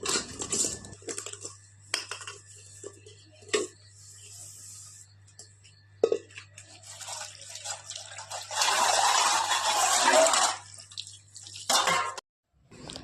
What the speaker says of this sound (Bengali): তো তোলা জল দিয়ে বাসন ধুতে হবে